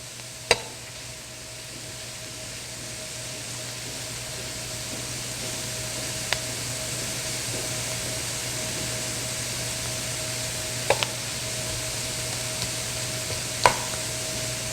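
Onion softens in a frying pan with a soft, steady sizzle, broken by a few sharp clicks of a utensil stirring against the pan, all fairly quiet with no voices.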